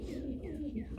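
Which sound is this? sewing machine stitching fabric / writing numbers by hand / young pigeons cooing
young pigeons cooing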